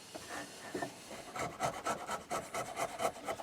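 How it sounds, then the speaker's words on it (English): A chisel pares stray bits off wooden cross joints on a rustic scrap-wood tea light holder, making close, rhythmic scraping and rasping strokes that grow busier after the first second. "I'm just going to give them a go over with chisel first, get all any bits that's sticking up that I missed with the saw"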